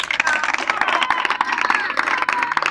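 A church crowd answers a call to acclaim Jesus with a steady burst of applause and cheering that fills the whole stretch, while a voice sounds faintly under the noise.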